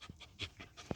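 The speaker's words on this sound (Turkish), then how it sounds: "Bakın arkadaşlar bu benim köpeğim Badem" A dog pants in quick, soft bursts inside a car, close by and faint, with short rhythmic breaths across a brief moment.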